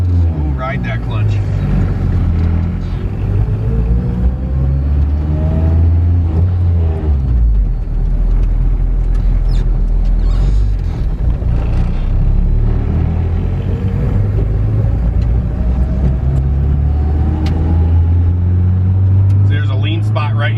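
A turbocharged K24 engine in a Honda Civic drones loudly and steadily while driving, with a deep, continuous rumble that rises and falls in pitch as revs change, and someone talks over it.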